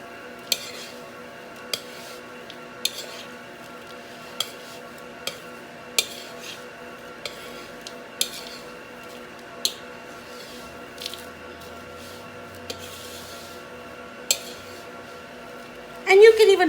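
A metal spoon tosses a dry mix of cereal and chopped nuts in a bowl, giving a steady run of close scraping clinks at regular intervals, with talk in the background.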